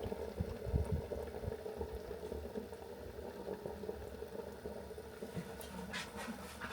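Food boiling in a pot on a wood-fired stove, a steady low bubbling rumble that runs throughout with a few louder surges, close and continuous, with no voices.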